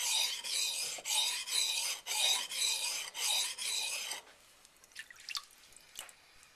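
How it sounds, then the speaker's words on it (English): Rhythmic rasping strokes of a knife ground back and forth on a wet waterstone for convex sharpening, about eight steady passes, followed by quieter scattered scrapes and drips. "I got the knife flat on the bevel, and as I go back and forth like this"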